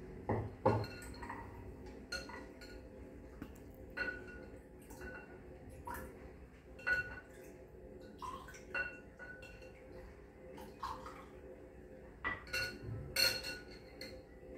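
Raw mango and jaggery panha, salted, is poured into a glass, giving a run of light clinks and small drips over a steady, soft background.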